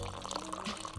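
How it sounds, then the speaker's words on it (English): A drink poured into a glass in the basketball video game NBA 2K22, with a steady liquid gush lasting about a second at a constant, moderate level. "Let me pour out a glass to him."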